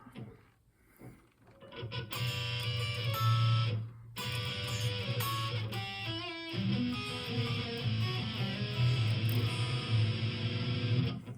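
An electric guitar plays a bluesy riff, bending notes over a steady low drone, close and moderately loud with no talking.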